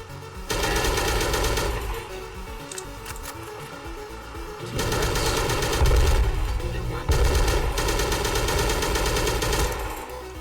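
Automatic weapons in the Cactus Cowboy 3 video game fire in long, rapid bursts, loud and close, with short pauses between sustained volleys.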